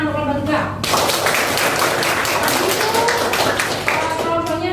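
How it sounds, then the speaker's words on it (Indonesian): Schoolchildren in a classroom clap for a group of classmates, a dense burst of close clapping that starts abruptly and fills the span, with a teacher's voice talking over it. "Beri tepuk tangan untuk kelompok 3."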